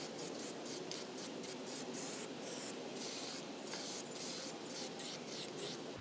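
Short bursts of spray primer hiss onto a rusted car body under repair, a series of close, even aerosol blasts in quick rhythm with brief gaps between them.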